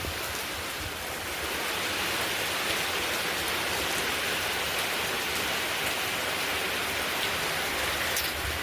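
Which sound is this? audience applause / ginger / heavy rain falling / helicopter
heavy rain falling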